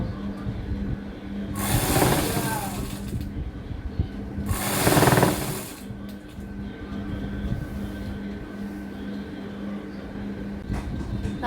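Sewing machine stitching a frock nightie, a steady low mechanical hum with two louder whirring runs of stitching, fairly close, with no speech over it.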